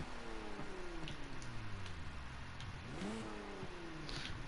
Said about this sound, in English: Just another rotary engine.